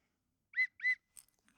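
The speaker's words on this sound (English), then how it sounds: "Next, an emergency whistle, which I keep right on that strap of my backpack right here." An emergency whistle clipped to a backpack strap gives two short, shrill blasts in quick succession, followed by faint handling clicks in otherwise quiet surroundings.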